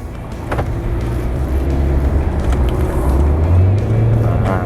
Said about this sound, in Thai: ตอนนี้รถวิ่งออกแล้วนะครับ